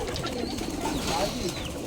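Giribaz pigeons coo softly in an abandoned home yard where many birds feed together, the low murmuring steady and fairly faint throughout the short stretch.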